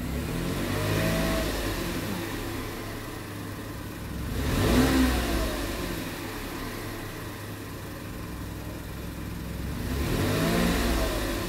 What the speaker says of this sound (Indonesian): Nah, ini kita colok gas.